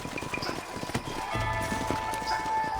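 Horse hooves clip-clop steadily in Red Dead Redemption, a busy mix of game sounds around them as the riders near a canyon fort, with no voices over the rhythm.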